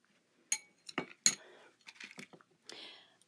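Metal spoon clinks against dishes while a French military ration meal is laid out, a handful of sharp, bright taps and rattles, close and fairly quiet, with a soft scrape near the end.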